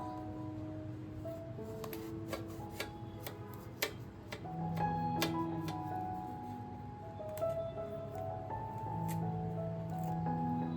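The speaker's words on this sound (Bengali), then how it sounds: "এবার বেগুনগুলোকে কেটে নিচ্ছি, অর্ধেক করে কেটে নেব।" Eggplants being cut in half with a knife produce a series of crisp, irregular clicks and taps against a board, moderately close, over a soft background hum.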